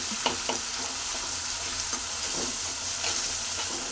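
Chili and tomato paste are stirred into a pot of vegetable sambar, making a continuous close sizzle and bubbling hiss with soft, irregular spoon scrapes and clicks.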